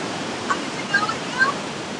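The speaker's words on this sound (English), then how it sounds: "There's the waterfall." Waterfall on the Ha Giang Loop in Vietnam, heard as a steady, broad rushing roar of falling water throughout, with faint voices or tones rising briefly within the wash.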